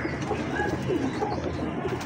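A golden pigeon gives a soft, close coo with a few low rolling notes over faint background noise and no talk.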